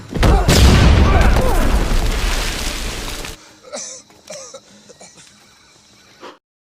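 A bomb trap goes off in an action film scene: a loud, sustained explosive roar for about three seconds, followed by quieter scattered debris and rumbling.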